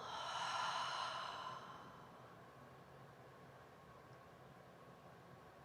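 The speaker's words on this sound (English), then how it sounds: "Exhale." A long exhaled breath at the close of a morning spring sadhana breathing exercise, a soft broad whoosh in the first second and a half that fades into quiet room hiss.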